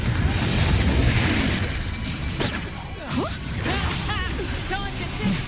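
Confringo blasting spells crash and boom in Hogwarts Legacy, a loud dense burst of explosive impacts with whooshes, layered with game voices and sound effects.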